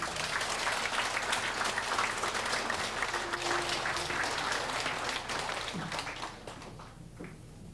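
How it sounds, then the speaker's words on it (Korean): Loud, dense applause from an audience at a lecture, steady for several seconds before tapering off toward the end. "아주 열렬한 박수 좀 쳐주세요."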